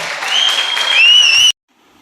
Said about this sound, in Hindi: जोरदार तालियां यीशु मसीह के लिए